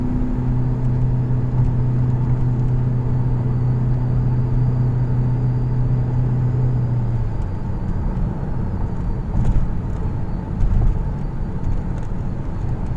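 A Volkswagen Passat 1.9 TDI Comfortline diesel car accelerating on the road, heard from inside as a steady engine drone and rumble with a low tone that holds, then fades into broader road and wind noise.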